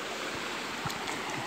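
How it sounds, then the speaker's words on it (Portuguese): Water spilling over from an overflowing dam forms a small waterfall beside a dirt road in the dry northeastern backcountry of Bahia, a steady soft rushing wash with faint low splashes. "aqui tem uma pequena cachoeira."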